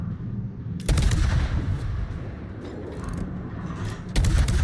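A warship fires its shells in a naval video game, with two heavy booming salvos a few seconds apart over a low rumbling background and no talking.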